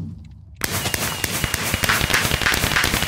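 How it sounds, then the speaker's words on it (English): Firecracker going off in the video game Dissent: after a brief quiet start, a sudden burst of rapid crackling pops and bangs continues densely for about two and a half seconds, loud and close. "Let's go ahead and do a firecracker."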